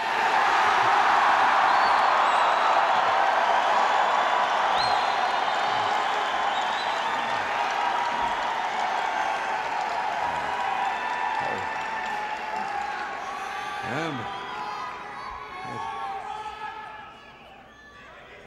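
Large rally crowd at Ohio State University applauding and cheering for the President, a loud, dense roar of clapping and whoops that gradually thins and fades over about eighteen seconds, with a voice speaking near the end.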